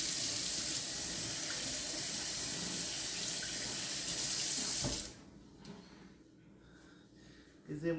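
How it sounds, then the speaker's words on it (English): Tap water runs steadily into a sink for hand washing during home cake baking, loud and continuous for about five seconds, then shuts off, leaving quieter handling noises. "Wash the hands before we do the last one."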